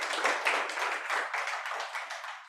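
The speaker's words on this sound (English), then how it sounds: "Can we give emGuarde a big round of applause, ladies and gentlemen?" A round of applause from the audience at a training event for emGuarde, a close, lively patter of many hands clapping that fades slightly toward the end, with no voices over it.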